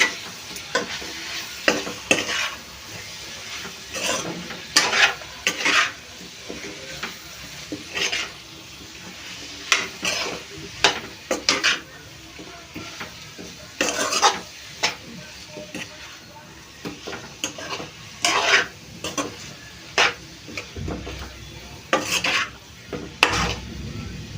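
Prawns with turmeric stir-frying in a pan, a steady sizzle broken by repeated scraping strokes of a spatula against the metal, coming in irregular bursts across the clip.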